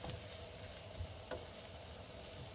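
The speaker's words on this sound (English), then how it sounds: "I'm just kind of giving this a quick stir through so that that butter gets everywhere" Vegetables being stirred through melted butter in a pan, with a constant soft sizzle and faint scraping of the utensil, quiet and close.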